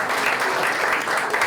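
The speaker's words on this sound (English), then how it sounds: "A round of applause for them." Audience applauding board members at a rooftop fundraiser panel, dense steady clapping close and loud throughout.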